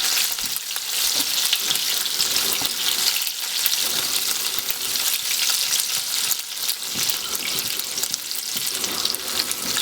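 Cabbage and onions for cabbage thoran fry in a pan with a loud, dense, continuous crackling sizzle close up, and occasional stirring shuffles under it throughout.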